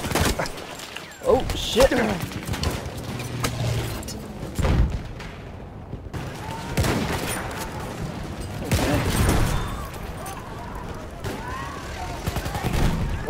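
Enemy machine gun fire in Battlefield 1 on the Fao Fortress map in Conquest mode: repeated bursts and heavy booms of battle, steady and mid-distance, with a player briefly talking over the din.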